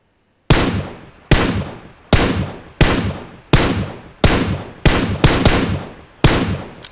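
Nine sharp gunshots fire one after another at an uneven pace in the video game PUBG Mobile, each loud crack ringing out briefly before the next.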